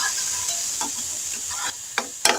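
Steady hiss of spices, including Kashmiri red chilli, sizzling in hot oil for a tempering, with a few sharp crackles and pops toward the end.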